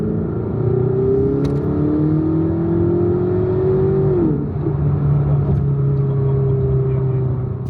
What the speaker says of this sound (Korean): 가속 페달을 밟으면 이런 소리가 납니다.